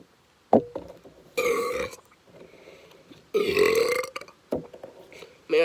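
Loud, close burps erupt after chugging a two-liter bottle of Diet Coke, two long rumbling belches with shorter ones and strained breathing between them.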